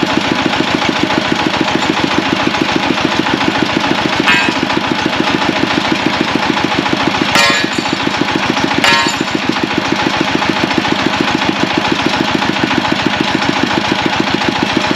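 Engine of a borehole drilling rig boring a new well at a drinking-water factory, running steadily with a rapid pulsing throb and a few sharp metallic knocks, no voices.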